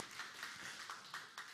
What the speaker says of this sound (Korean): 우리 영환이의 격려의 박수 해주세요